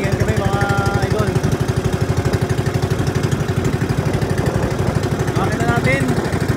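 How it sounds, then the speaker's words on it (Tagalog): A 19 hp low-speed engine runs steadily nearby with a rapid, even chugging pulse that holds throughout, loud and constant, while a voice speaks over it briefly at the start and near the end. "Makina natin 19 HP low speed."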